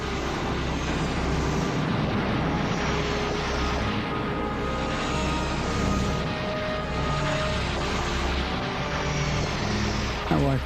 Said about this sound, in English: Allied fighter planes keep the skies almost clear of German bombers